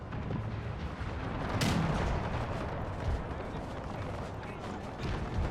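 Artillery shells and gunfire boom continuously in a war video game set in the 1866 Austro-Prussian War, a dense rumbling barrage with a sharper blast near the middle, steady and fairly close throughout.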